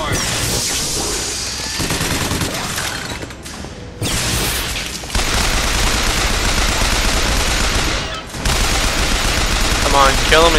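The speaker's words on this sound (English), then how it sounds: "kill him and take this crank gun" A hand-cranked crank gun fires long, loud, continuous machine-gun bursts in BioShock Infinite, with brief pauses between volleys and game voices heard faintly among the gunfire.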